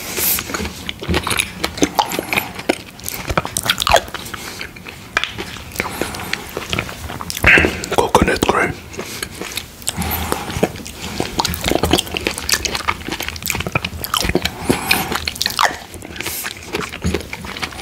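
Close, wet eating of mango sago pudding with coconut cream: soft squelches, slurps and chewing in a steady run of small bites and spoonfuls, loud and near with no talk.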